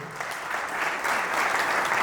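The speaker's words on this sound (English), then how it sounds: "now let me hear a big round of applause for all of you present here today" Conference audience at an international oil industry event in Dubai breaks into sustained applause, a dense steady wash of many hands clapping that swells slightly halfway through, with no voices on top.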